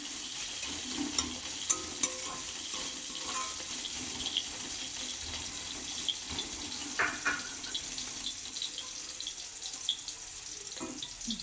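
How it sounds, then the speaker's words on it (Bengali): Chopped tomato frying in a pan for an egg tarka, giving a steady close sizzle and crackle with occasional scrapes and soft clinks, no voices. "টমেটোটা হালকা 30 থেকে 40 সেকেন্ড ভেজে নিচ্ছি আমরা"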